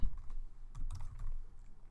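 Soft keystrokes tap on a computer keyboard during a Python programming lesson, a few irregular clicks under a low background hum.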